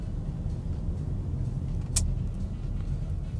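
Cars crawl along a congested road called Jalan Ororodowo in Indonesia, making a steady low rumble of engines and tyres with one brief higher swish partway through, no voices.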